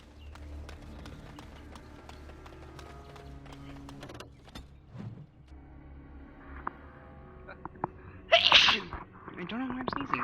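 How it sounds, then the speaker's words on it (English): A character in the video game Dragon Age Origins sneezes: one sharp, loud burst, isolated against quiet game ambience and music. "I don't know why I'm sneezing."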